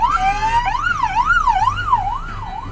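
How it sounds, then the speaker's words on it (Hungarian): An emergency vehicle siren wails steadily in traffic, rising and falling in a fast repeating sweep, loud and close over the low rumble of the road. "nekünk is kéne egy szirénapank"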